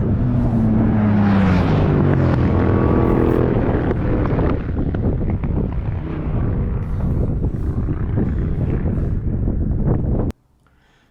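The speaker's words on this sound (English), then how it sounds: "I'm riding my trusty Moto Guzzi Stelvio" Strong, steady wind rush buffets the microphone while riding a Moto Guzzi Stelvio motorcycle on Mulholland Highway, with a low engine rumble underneath, continuing loud for about ten seconds before cutting off abruptly.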